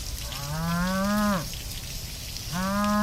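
A moose calls twice in the wild, each a long, low, drawn-out moaning bellow with a rising tone, the first lasting about a second and the second starting after a pause, over steady background hiss.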